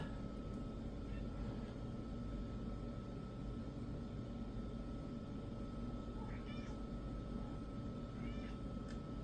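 A few faint cat meows rise over a steady low hum from a Gateway 2000 P5-166XL computer, with a constant tone running through the background.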